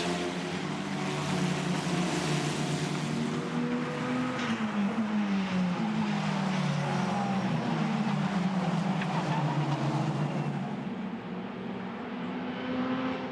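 Race cars at the Circuit de Spa-Francorchamps running side by side in a 2021 FIA Pure Motorsport event, a continuous loud engine roar with shifting pitch as the pair pass, heard alone without talk.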